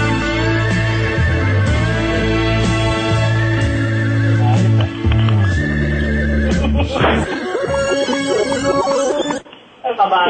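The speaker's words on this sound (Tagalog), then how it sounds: "Kabayo po, premature din po." A horse neighs loudly and at length, a sustained whinny with a layered, rough tone that runs for most of the clip before breaking off near the end.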